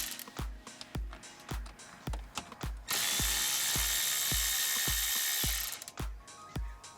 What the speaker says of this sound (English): Then to remove them, I use the battery ratchet.